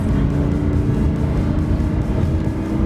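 A 2015 Lamborghini Huracan LP 610-4 drives along an empty parking row, its engine giving a steady, dense roar with rough pulsing texture throughout, heard from close by with no speech.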